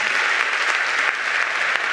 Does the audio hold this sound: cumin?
no